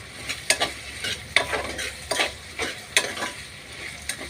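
Potatoes and vegetables sautéing in a pan for vegetable rice are stirred with a spoon, giving irregular scraping clacks over a soft, steady sizzle, close and moderately loud.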